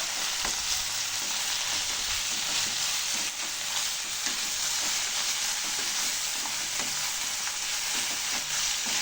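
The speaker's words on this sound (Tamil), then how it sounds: "இப்போ புதினா ஆட் பண்ணுறேன் நம்ம இதை நல்லா மிக்ஸ் பண்ணிடலாம்" Mint leaves frying in a pan as a thuvaiyal with curry leaves and coriander is made, a steady close sizzle with repeated scraping stirs of a spatula throughout.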